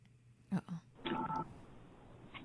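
Voicemail playback tones: a couple of short electronic beeps followed by a longer steady tone, clean and fairly quiet, with faint background hiss.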